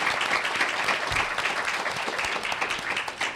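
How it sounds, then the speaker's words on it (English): Audience applause after a Constitution Day expert panel, a steady medium-loud round of clapping from a modest crowd. "If we could give a round of applause to our three outstanding experts."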